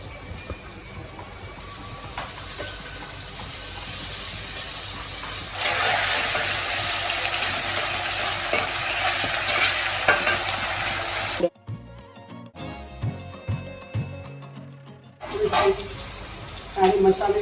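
Tomatoes sizzle and fry in a pan for duddhi sabzi, a steady close hiss that swells louder midway, then breaks into scraping stirring and clatter before the frying hiss returns.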